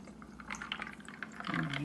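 Watermelon juice poured over ice into glasses, a soft, steady liquid pour that grows fuller toward the end, quiet and close with no talking.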